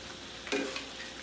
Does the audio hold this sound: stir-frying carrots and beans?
yes